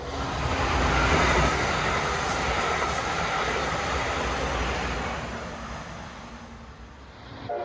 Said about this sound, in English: The third run was the first run at 79 miles per hour, the fastest a test train had run in this area yet on the upgraded tracks.